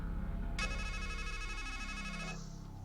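Telephone ringing in the video game Strangeland: a bright electronic ring starts abruptly, holds steadily for nearly two seconds and cuts off, over a low background hum.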